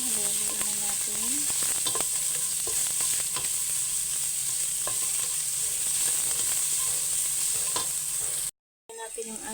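Onions sautéing in a pan after ginger, stirred with repeated scrapes over a constant bright sizzle, close and steady, cutting out briefly near the end before resuming.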